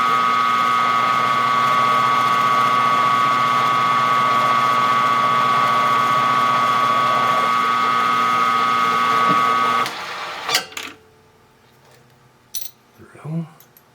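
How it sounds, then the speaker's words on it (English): A small lathe whirs with a steady motor hum and whine while a center drill cuts, then the spindle stops and a few metallic clinks and taps follow. "Center drill."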